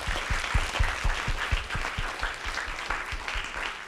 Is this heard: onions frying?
no